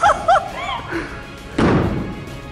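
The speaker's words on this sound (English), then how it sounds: "I'm just gonna throw my loaded gun on the ground." A loaded gun thrown onto the ground lands with a single loud thud and clatter partway through, after a few brief voiced sounds at the start.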